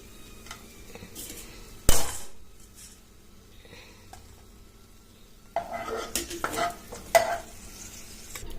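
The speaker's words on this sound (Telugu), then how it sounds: "ఆ తర్వాత మనం మిగతా డ్రై ఫ్రూట్స్ కూడా వేయించుకొని పెట్టుకోవాలి" Dry fruits frying in ghee in a pan for a fresh coconut laddu, stirred with a few sharp scrapes and clinks amid a soft sizzle, with quieter stretches between bursts.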